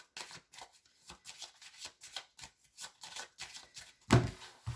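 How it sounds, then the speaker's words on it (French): Tarot cards shuffled by hand in a quiet room, a quick run of crisp riffling bursts in an irregular rhythm that ends in a louder snap, close up with no talking. "Je devrais bien remettre toutes les cartes du tarot dans le jeu."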